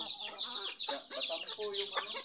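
Several hens cluck and chatter nearby, a busy overlapping run of short clucks and murmurs with a faint high background hum.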